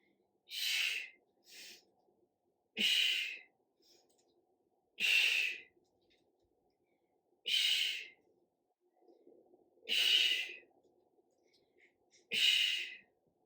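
Slow, deliberate breaths during a resistance band workout at home, each a soft airy exhale or inhale repeating about every two and a half seconds, close and quiet with silence between.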